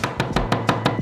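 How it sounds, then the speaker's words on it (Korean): A knife chops peeled garlic on a cutting board while a Big Tasty sauce is being made: six or seven sharp, evenly spaced chops, close and loud, with no talking. "껍질을 벗기고 도마에서 잘게 칼로 썰어주세요."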